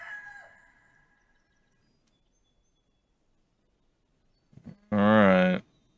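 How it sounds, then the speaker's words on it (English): A rooster in the video game DotAGE gives one loud, close crow near the end after a brief cluck, following a faint bird call and a long near-silence. "We have three chickens chilling over here."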